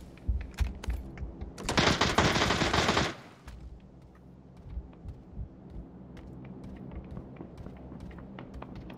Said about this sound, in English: Keep shooting then. Keep shooting.